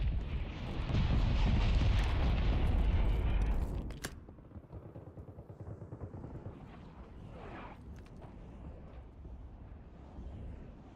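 Heavy artillery strike explosions in a video game: a loud, dense rumbling barrage for about four seconds, then a quieter crackling tail with faint distant booms.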